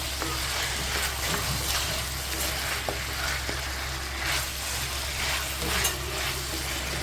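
Potatoes and capsicum frying in a pan as they are stirred together, a steady close sizzle with scraping stir strokes running throughout, no talk.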